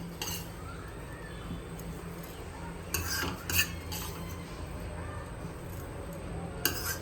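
Roasted coconut, sesame and garlic being scraped from a pan onto a plate: a steady low kitchen hum with a few bright metallic scrapes and clinks of a spoon against the pan, close by and without talk.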